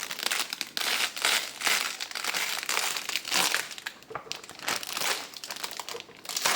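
A plastic topping sheet being peeled off a stingless bee (kelulut) hive makes a continuous loud crinkling and crackling of plastic, close up and unbroken, with no voice.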